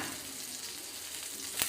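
Pieces of dosakaya, yellow cucumber, cooking in a pan on a stove give a steady close hiss of frying with one brief louder crackle near the end; no one speaks.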